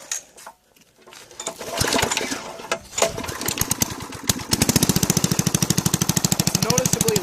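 A go-kart engine fitted with a new muffler cranks and catches, then runs at a fast, steady, loud chugging idle with rapid even pulses close by.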